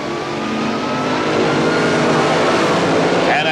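Competition Eliminator drag racers launch side by side from the starting line at the 1977 NHRA Springnationals, a loud sustained engine roar that swells and holds for several seconds.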